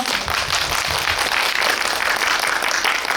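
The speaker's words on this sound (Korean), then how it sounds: "박수 부탁드릴게요" A packed audience claps steadily at a post-screening guest talk for a Korean film, a dense, continuous wash of applause at an even, fairly loud level with no voices over it.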